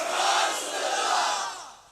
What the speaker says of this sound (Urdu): اے نعرے دا جواب ایک زبان جو دیو گے، نعرہ رسالت